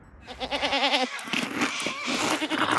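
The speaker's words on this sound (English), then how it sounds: "typical Swiss Wallis goats, mountain goats called black neck goats" Valais Blackneck goats bleat in quick wavering cries, several overlapping calls close by amid outdoor rustle.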